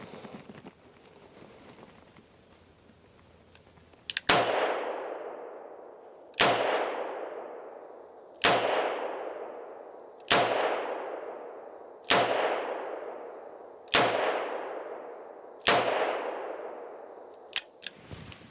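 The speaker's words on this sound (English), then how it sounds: "That's the 7 shots that I shot the second time." Seven sharp handgun shots fired at a target, spaced about two seconds apart, each a loud crack with a ringing decay, and quiet in between.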